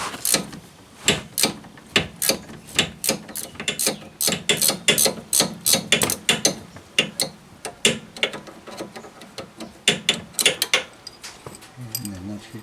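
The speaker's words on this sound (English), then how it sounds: "If you happen to have a ratcheting wrench" A ratcheting wrench loosening a front sway bar link on a 2008–2013 Chevrolet Malibu, giving a fast, rhythmic series of sharp clicking strokes, close and steady for most of the clip before stopping.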